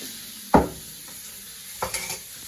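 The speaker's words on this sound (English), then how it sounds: "Another stir." Vegetables for kebabs being stirred in a pan, with one firm scrape early on and a few lighter scrapes and clinks near the end over a soft, steady background.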